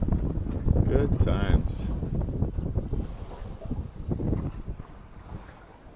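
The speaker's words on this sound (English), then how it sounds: "We got nice breeze, nice stiff breeze." Stiff wind buffets a sailboat at sea off Hong Kong with loud, continuous rumbling gusts and microphone noise, while someone speaks briefly over it.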